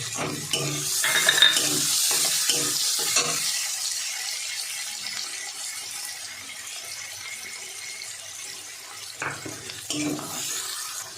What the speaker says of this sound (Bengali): আর এই ছোটো করা রসুনটা দিয়ে দেবো, দিয়ে একটু ভালো করে ভাজবো।